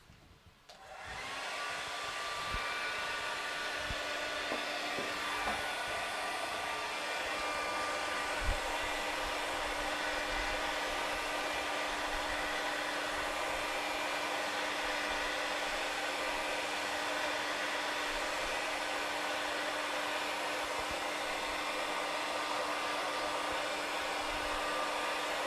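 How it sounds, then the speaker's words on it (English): A hairdryer blasts air onto a snow-scene craft model of a stag, switching on after a brief click and then holding a loud, steady whirring hum with no talking. "I'm just going to blast this with the hairdryer for a second, just to make sure it's completely dry"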